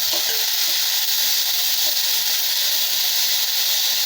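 Onions, tomato and curry leaves sauté in a hot pan, producing a loud, even hiss of sizzling that stays constant for the whole stretch with no speech.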